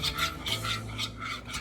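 A child stirs marinara sauce in a bowl, giving a steady scraping, rubbing swirl in repeated close strokes with no talk over it.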